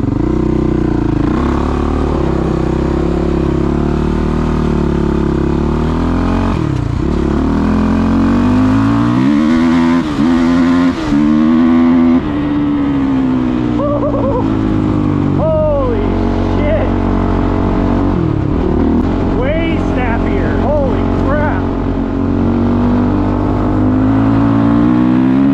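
Suzuki LTR450 ATV with gear reduction and lowered rear tire pressure, engine revving hard and accelerating with rising and falling pitch sweeps, loud and close, with some voice sounds over it.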